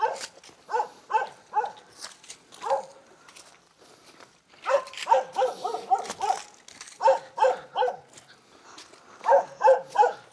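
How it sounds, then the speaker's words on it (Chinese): A yellow dog guarding a home in a Chinese mountain village barks repeatedly in short bursts, several groups of sharp barks with brief pauses between them, fairly close and clear. "一条黄色的家狗在守护家园呢"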